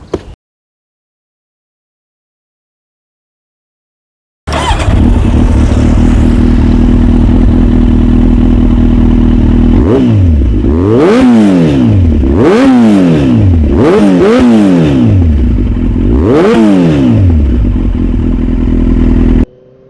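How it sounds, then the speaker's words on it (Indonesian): After a few seconds of silence, a Kawasaki Z800 motorcycle engine rumbles steadily up close, revving hard several times with rising and falling whines between steady idling. "Langsung aja kita menuju ke test ride, langsung naikin motornya."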